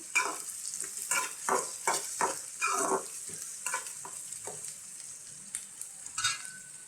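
Onions and green chilies fry in a pan, a steady sizzle broken by repeated scraping stirs that come in irregular bursts, close up and with no talking.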